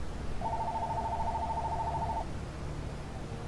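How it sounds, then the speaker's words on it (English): A phone rings in the video game Mass Effect Andromeda: one steady electronic tone holds for about two seconds, then stops, over a low constant background hum with no talking. "Phone ringing, hang on."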